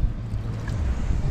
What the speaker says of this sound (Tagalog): malakas kasi ang hangin